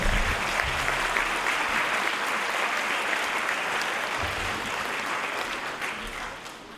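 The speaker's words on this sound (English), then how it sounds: "let's give all of our social studies winners a round of applause" Audience applause at an 8th grade moving-up ceremony, honoring the social studies winners: steady, loud clapping from a large crowd in a hall, sustained throughout and easing slightly toward the end.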